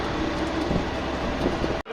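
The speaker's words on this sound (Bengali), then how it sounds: "এটা ছিল আমাদের ট্রেন।" A train at a station in Hyderabad gives off a continuous low rumble and rattle, steady and fairly close, cutting off abruptly near the end with no one speaking.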